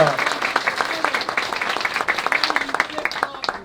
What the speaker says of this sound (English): Can we have a round of applause for everybody who's willing to do this hard work?